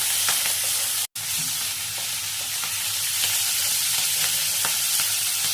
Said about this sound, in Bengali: একটু তেলে নাড়াচাড়া করে নিলেই হবে।